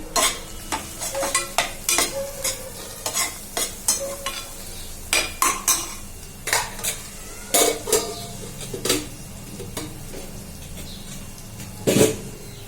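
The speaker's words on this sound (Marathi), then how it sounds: "मिसळ मसाला घातला आहे मी जवळजवळ छोटा चमचा एक घातलेला आहे आणि चांगलं परतून घ्यायचं आहे" Matki pulao being stirred with misal masala in a pan, with a spoon scraping the metal in quick, repeated strokes close up over a low, steady sizzle.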